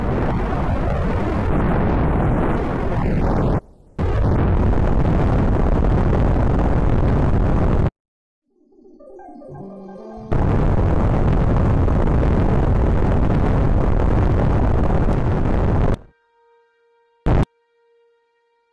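Rocket engines roar in the Spaceflight Simulator game as a large fuel-heavy rocket climbs toward orbit, a loud continuous broadband rumble broken by brief cutoffs and a quieter stretch, then ending in near silence with a short blip.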